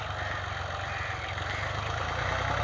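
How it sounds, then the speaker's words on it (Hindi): Tractor engine running steadily, a close, loud low rumble with a chugging idle throughout and no voices. "ट्रैक्टर चला रहे हैं।"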